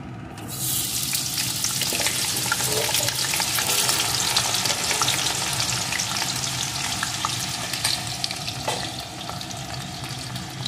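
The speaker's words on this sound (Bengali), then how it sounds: "এখন আলুগুলোকেও লাল লাল করে ভেজে নেব" Cut potato pieces frying in hot oil, a steady dense sizzle with bubbling that fills the whole stretch at close range, with a few faint clinks, and no talking.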